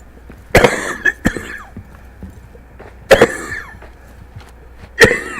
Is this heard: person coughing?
yes